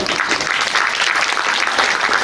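Audience members at a Hindi motivational speech by Gyanvatsal Swami clap together in a brief, dense burst of many hands, loud and continuous from start to finish.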